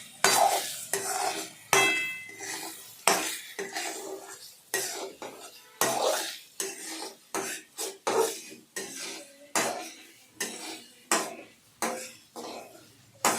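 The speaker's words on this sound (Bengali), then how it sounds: "আমি সেগুলো ভালোভাবে নাড়াচাড়া করলাম যাতে না পুড়ে যায়" Fried potatoes for a reta fish curry being stirred in a pan, with rhythmic, fairly loud scrapes and knocks of a utensil repeating every second or so, a faint sizzle beneath.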